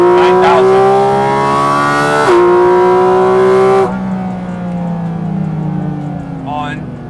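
A Porsche GT4 RS Weissach engine revs hard to 9,000 rpm in third gear at night, a loud, rising high-pitched wail that peaks and then drops off into a lower, fading exhaust note.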